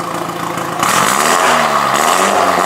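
A BMW M135i F40 with a stainless-steel FI Exhaust sport system with switchable valves revs up loudly and close, with two distinct rising throttle blips and a steady raspy drone in between.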